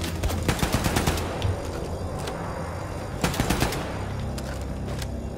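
Rapid automatic gunfire from a weapon in the video game Wolfenstein II: The New Colossus rattles out in two close, loud bursts of quick shots separated by a short pause, with no talking.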